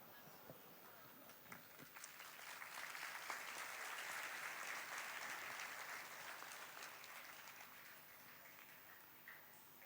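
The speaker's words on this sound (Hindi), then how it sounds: "जिस तरह हम तालियां बजा रहे हैं," A church congregation at an Easter Vigil service claps together, a soft, fairly distant patter that swells in the middle and fades gradually toward the end, with faint voices mixed in.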